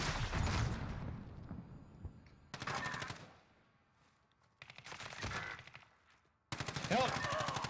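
Bursts of automatic gunfire crackle in the shooter Modern Warfare, arriving in several loud separate volleys with quieter gaps between them, and voices occasionally speak over them.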